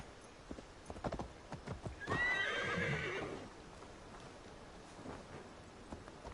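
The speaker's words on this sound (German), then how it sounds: "Pferdchen!" Horse hooves clip-clop in Assassin's Creed Valhalla, and a horse gives a loud whinny midway, standing out over faint ambient game sound.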